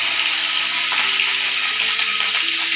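Green chilies sizzle in hot coconut oil, giving a loud, close, steady frying hiss that continues without a break.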